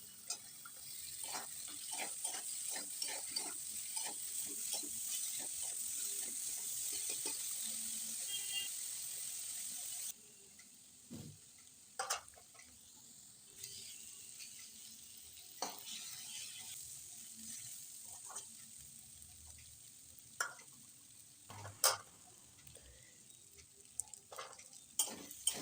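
Cubed brinjal and potato frying in katla fish oil, a steady soft sizzle broken by sharp spatula scrapes and clicks against the pan, quieter after a mid-point shift, with no voices.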